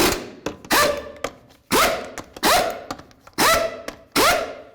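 A torque wrench tightens the lug nuts on a 1988-2002 GMC Sierra 1500, giving about six sharp, loud metallic clicks and clunks at irregular intervals, each ringing briefly before fading, with no voices.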